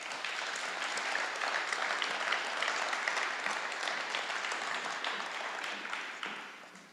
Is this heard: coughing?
no